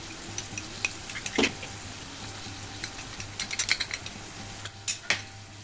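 Garlic chutney fries in a pan as amchur powder goes in, a low sizzle broken by irregular clicks and scrapes of a spoon against the pan, close and without speech.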